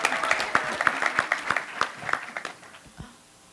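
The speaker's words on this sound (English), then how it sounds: "everybody give her a big round of applause" A panel discussion audience at Build25 Boston applauds, with brisk group clapping that starts full and tapers off within a few seconds, a little crowd murmur underneath.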